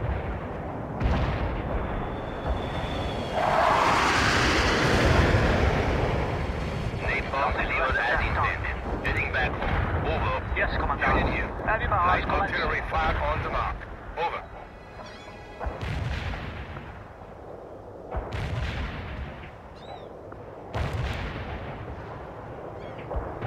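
A napalm air strike and artillery fire in the real-time strategy game World in Conflict: a long rolling roar of fire and blasts, then repeated booming impacts and crackling debris, with radio-style voices talking over the battle.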